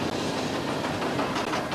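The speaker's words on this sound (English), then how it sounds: "Once the train goes over the top, gravity alone will carry it back." A roller coaster train at Pleasure Beach Blackpool rolls along its track with a steady broadband rumble and faint rhythmic clatter of wheels, continuous and fairly loud throughout with no voices.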